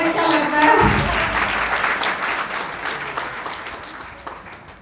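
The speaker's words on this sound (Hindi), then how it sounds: "प्लीज तालियां बजाइए, अच्छा लगता है।" An audience in an auditorium at a national convention claps, a loud burst of applause at the start that gradually thins and fades, with some voices audible underneath.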